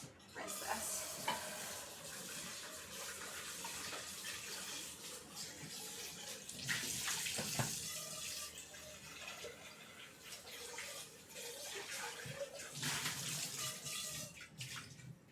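Tap water runs steadily while a kitchen item is rinsed during gluten-free gougère prep, a continuous hiss of flow with a few splashy surges, close and moderately loud, no talking.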